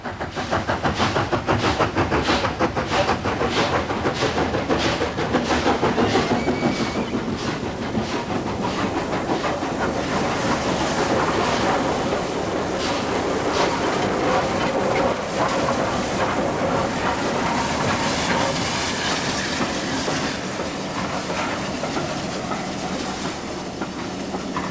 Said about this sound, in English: The noise of the exhaust changes as the driver first shuts the regulator and reopens it in small valve to pull the train into the platform.